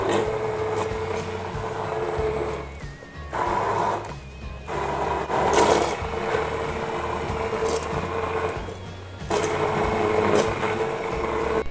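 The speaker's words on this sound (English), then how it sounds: "with my immersion blender, I'll just be pureeing this whole mix" An immersion blender purees the vegetables for a butter chicken sauce, a steady whirring motor that cuts out briefly a few times and then restarts, close by and fairly quiet.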